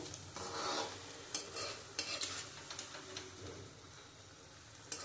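Raw banana koftas fry in hot oil, a quiet steady sizzle broken by scattered clinks and scrapes of a spoon stirring in the pan.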